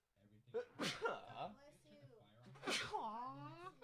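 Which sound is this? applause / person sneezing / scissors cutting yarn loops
person sneezing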